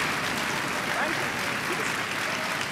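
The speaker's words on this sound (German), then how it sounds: "meine Damen und Herren, Applaus für unsere 3 Freiwilligen" A studio audience at a German television show claps steadily for three volunteers, a dense, even wash of applause with a voice heard faintly beneath it.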